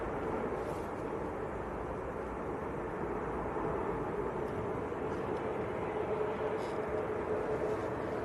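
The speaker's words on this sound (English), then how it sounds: "Ryanair to Milan getting airborne." A Ryanair jet bound for Milan takes off at Manchester Airport, a loud sustained roar of engine noise heard from a distance, holding steady across the whole stretch with no talk over it.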